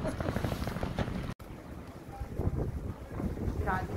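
Strong wind on a rainy day buffets the microphone with a rumbling roar, steady and close, while a voice speaks underneath, at Purple Island in South Korea.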